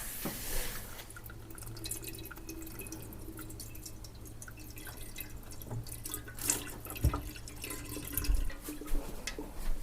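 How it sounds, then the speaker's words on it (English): Water runs steadily from a kitchen tap into a sink, a continuous splashing stream with a few sharper drips and clinks toward the end. "I'm gonna turn on the water over here."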